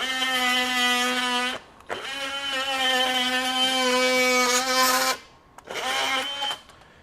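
A Ryobi Gen 2 18V One+ HP multi tool (PBLMT51B) runs at full speed with a loud, steady high-pitched whine that briefly cuts out twice, then resumes, with no talking.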